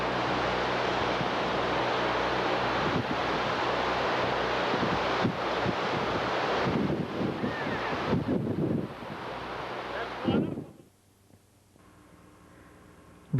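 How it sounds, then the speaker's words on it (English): Strong hurricane wind roars over crashing storm surge waves along the Massachusetts South Coast during Hurricane Bob in 1991, loud and continuous with microphone buffeting, then dropping off abruptly near the end. "Look at the water coming in."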